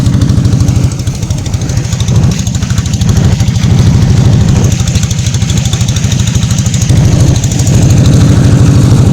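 The engine of a fishing trawler on the Padma river chugs loudly and steadily close by, with a rapid, even pulsing throb that continues throughout.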